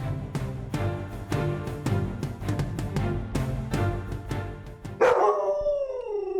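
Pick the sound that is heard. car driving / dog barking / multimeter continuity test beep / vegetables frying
dog barking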